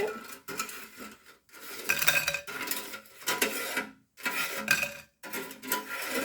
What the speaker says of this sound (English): I'm gonna use a spoon and dump these out. Ooh, it sounds nice and crispy.